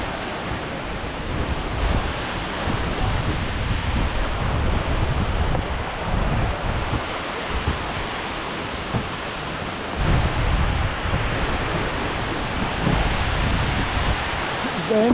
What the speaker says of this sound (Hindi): पानी की स्पीड बहुत ज़्यादा है और गिरने की आवाज़ भी काफ़ी तेज़ है।